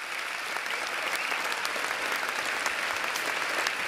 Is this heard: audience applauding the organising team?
yes